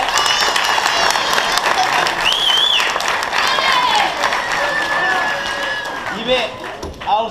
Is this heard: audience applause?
yes